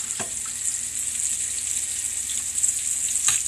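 Steady bubbling sizzle of sauce thickened with flour and water boiling in a pan, continuous and fairly close, with a couple of brief clicks or clatters.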